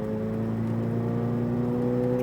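A Corvette Z06 on the SpeedVegas race track drones with a steady, close engine tone under acceleration, its pitch holding almost level, with no talking.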